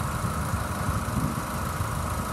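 A 2014 Ford Focus SE with a 2.0 liter four-cylinder engine idles in a steady, even hum with a low rumble, close and continuous.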